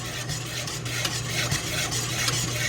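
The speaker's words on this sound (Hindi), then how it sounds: "मिल्क पाउडर ऐड करने के बाद हम इसको अच्छी तरह से मिक्स कर लेंगे" Milk powder being stirred into milk for Lab e Shireen dessert, a steady soft scraping and rubbing of a spoon against the pot, faint and continuous with no talking.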